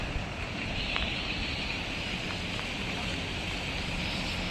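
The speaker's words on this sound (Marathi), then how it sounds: "खतरनाक पाऊस चालू आहे, 2 दिवस झाले पाऊस चालू आहे" Heavy monsoon rain has kept falling for two days over a flooded river. A constant broad roar of rushing water and rain fills the scene, steady and loud with no pauses.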